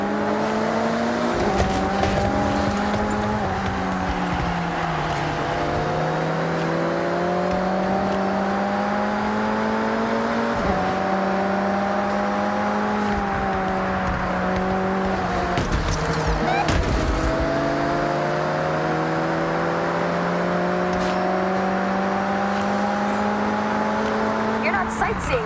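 Race cars in Forza Horizon 6 drone steadily at high revs, engine pitch rising and dipping through gear changes across a long stretch, loud and close, with voices talking over the engine noise.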